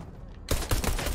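Pistol fire in Fortnite Battle Royale, a quick run of sharp shots that bursts in suddenly halfway through after a quieter stretch, loud and close.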